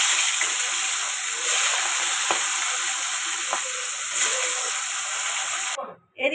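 Hilsa fish frying in hot mustard oil, a steady close sizzle and hiss with a few faint clinks, cutting off abruptly near the end.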